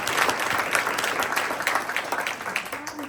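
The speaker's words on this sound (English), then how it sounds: "Let's give them a round of applause" Sustained audience applause at a Christmas variety show, following a group's music performance, with dense clapping filling the space evenly for the whole stretch, a few faint voices mixed in.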